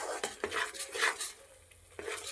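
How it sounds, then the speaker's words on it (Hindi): A utensil stirs carrots in a cooking pan, with scraping and light clinks of metal in an irregular rhythm, close and moderately quiet with no talking. "थोड़ी देर मैं इसको ऐसे चलाऊंगी, ऐसे ही थोड़ी देर"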